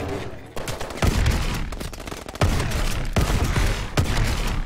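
Heavy shotgun blasts in the Call of Duty: Advanced Warfare campaign's basic training mission, several loud booming shots spaced about a second apart, each with a sharp onset and rumbling tail over a dense background.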